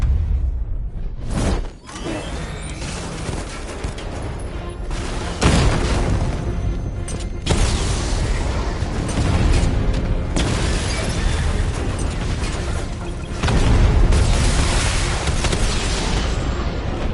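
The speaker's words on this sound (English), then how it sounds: "Your 60mm cannon will penetrate these heavily armored units, but it'll take a few direct hits to destroy them." Heavy booming blasts from a tank's 60mm cannon in the Batman Arkham Knight video game, loud and close, several detonations over a dense rumbling combat din with no talk.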